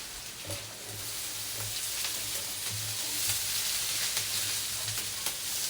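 Bell pepper toasting in a pan alongside leftover grilled pork belly (inihaw na liempo), a constant close sizzle and hiss with occasional light stirring scrapes, loud and steady throughout without speech.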